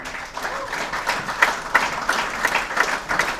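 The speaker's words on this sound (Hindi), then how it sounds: "जोरदार तालियां दोनों के लिए" An audience at a network marketing session claps steadily for several seconds, a sustained wash of many hands with a few sharper claps standing out.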